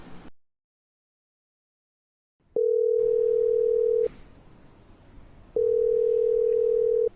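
After a brief silence, a telephone line tone sounds twice. Each is a steady, loud, low beep lasting about one and a half seconds, separated by a quiet pause of the same length.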